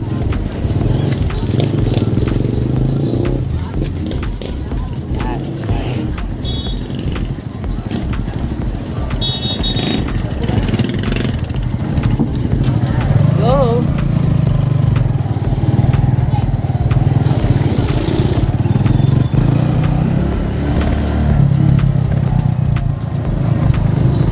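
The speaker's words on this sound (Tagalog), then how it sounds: "So, dito tayo sasakay ng tricycle." A tricycle engine runs steadily and loudly up close with a rattly, clattering drone that holds throughout, and a voice occasionally speaks over it.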